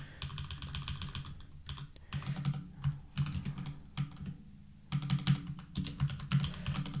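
Rapid typing on a computer keyboard during speed coding in C, dense clattering keystrokes in bursts separated by short pauses, close and fairly quiet, no talking.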